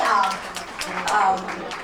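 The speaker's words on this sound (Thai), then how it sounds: "ขอเสียงปรบมือด้วยนะคะคุณตูตีค่ะ" Audience applause for a contestant at a Thai karaoke contest in Boston, a brief burst of clapping mixed with a speaking voice over it.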